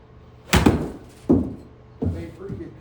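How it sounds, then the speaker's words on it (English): A golf club strikes a ball on a 50-degree wedge shot, a solid thump, followed by two more similar dull impacts, close and distinct with no talk. "this is going to be kind of a good 50-degree wedge for me, and I'll just hit the shot"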